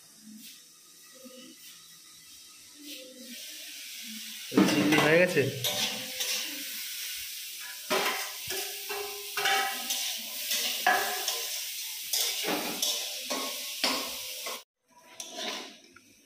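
Beans and carrots frying in a pan for fried rice, with sizzling, stirring scrapes and occasional clinks of utensil on metal; someone talks over the cooking at times before a brief pause near the end.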